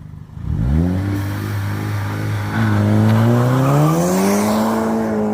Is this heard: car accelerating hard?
yes